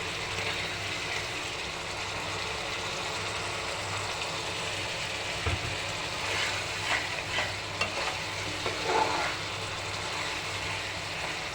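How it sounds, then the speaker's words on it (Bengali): Spice paste for a shrimp curry being stirred and fried in oil in a pan: a steady sizzle under a low constant hum, with occasional scraping stir strokes in the second half. "যতক্ষণ না উপরে তেল ভেসে উঠবে ততক্ষণ আমাকে কষাতে হবে।"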